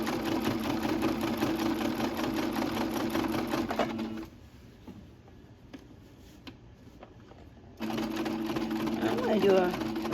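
A Janome MC550E sewing machine stitches a lined hooded towel in steady, fast whirring runs, stopping for a few seconds of near quiet before starting again, with a voice talking over it.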